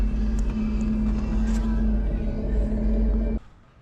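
A 1988 Jeep Comanche on new wheels drives with a steady, loud engine drone and low road rumble that cuts off sharply near the end.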